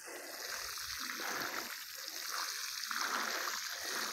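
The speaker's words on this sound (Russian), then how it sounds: "И теперь я проливаю красивую мою замечательную розу." Water is poured to soak a newly planted Canadian Champlain rose in open ground, a soft, steady splashing and trickling that keeps up throughout.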